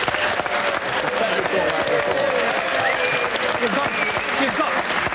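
Studio audience at a 2001 British election leaders' debate applauds loudly and continuously, a thick wall of clapping with voices talking over it.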